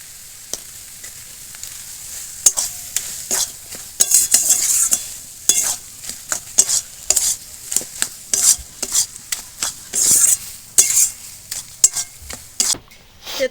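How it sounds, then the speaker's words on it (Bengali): A spatula stirs cumin paste and spinach greens in a pan, giving close, repeated scraping and clacking strokes in an uneven rhythm over a soft sizzle, with no talking. "এবার খুন্তি দিয়ে একদম ভালো করে এইভাবে একটু নাড়তে হবে জিরে বাটা"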